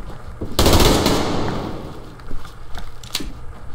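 Gunfire in the Survarium shooter game during a fight with bots, opening with a loud sustained burst of shots that trails off, followed by scattered sharper shots and clatter.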